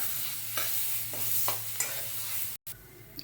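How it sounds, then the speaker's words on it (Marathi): Ground turmeric spice mix being sautéed in a pan for a savoury Pune-style khirapat prasad, giving a soft steady sizzle with a few spoon scrapes and stirring bursts, a brief cut near the end. "हळद टाकते आणि ते आपण वाटलेलं आहे की नाही ते आपण त्यामध्ये टाकून परतून घेऊया"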